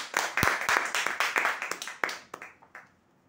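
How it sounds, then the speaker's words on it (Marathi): Audience applause for lucky-draw prize winners at a customer prize draw event, a burst of hand claps that thins into a few scattered claps and fades out. "जोरदार टाळ्या होऊ द्या यांच्यासाठी"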